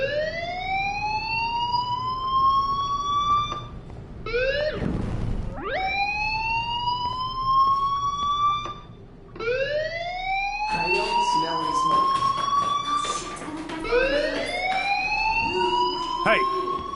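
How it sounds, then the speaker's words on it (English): In the video game Life is Strange, a fire alarm wails in repeated rising electronic sweeps. Each cycle climbs and holds before restarting, loud and steady, with a few brief background noises between cycles. "do you hear that fire alarm?"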